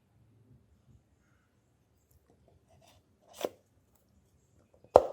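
A plastic oil filter element for an Audi 3.0T CREC V6 snaps onto its adapter with two sharp clicks a second and a half apart, the second louder, in an otherwise quiet space.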